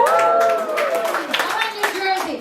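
New Yorkers in a comedy club audience clap and cheer together, a loud continuous crowd roar of shouts and applause that swells and holds throughout.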